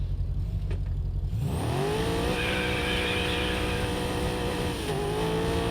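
A Porsche 918 Spyder in the racing game Test Drive Unlimited Solar Crown, running a grip tune, rises from a low idle into a loud, sustained high-revving engine whine that climbs and holds, with a brief gear-shift dip near the end.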